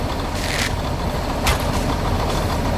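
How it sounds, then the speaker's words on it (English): Inside the cab of a cement mixer truck, the diesel engine rumbles steadily and loud, with short hissing bursts of air release breaking through at intervals. "I'm in my truck. I drive a cement mixer"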